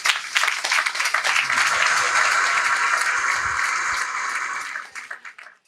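A crowd applauds Michel and Anne at a children's charity building inauguration, dense loud clapping that swells, holds for several seconds and tapers off near the end.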